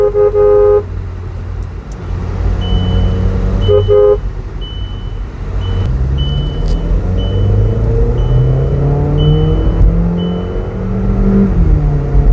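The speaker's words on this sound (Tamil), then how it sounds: "ஷிஃப்ட் ஆகுதே தெரியல டகா டகான்னு மாறுது அதுக்குள்ளே ஹண்ட்ரட் ரீச் ஆகிடுச்சு" A Volkswagen Polo GT TSI, modified, accelerates hard in sport mode, its engine note climbing in rising sweeps through several quick upshifts, with a short horn toot near the start and a loud, close, continuous drone throughout.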